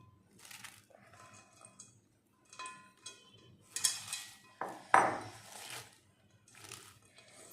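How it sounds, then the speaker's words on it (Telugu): Spoon scraping and clinking through cabbage pickle in a bowl, a run of scattered soft knocks and scrapes with a couple of sharper clacks near the middle, fairly quiet and close. "సో ఈవెన్గా మిక్స్ చేసుకోవాలి."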